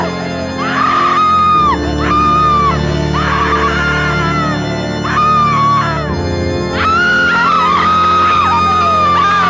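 Women screaming in the horror film Rats: Night of Terror, several loud drawn-out shrieks in repeated bursts over a dense background of film sound.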